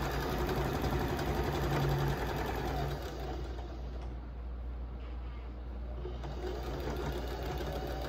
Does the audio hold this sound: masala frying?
no